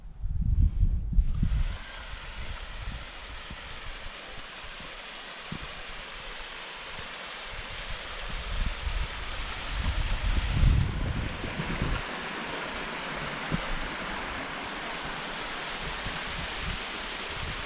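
A waterfall and the stream flowing from it at Ptarmigan Cirque give a continuous, moderately faint rushing hiss, with low wind-like rumbles and a few swells of louder water.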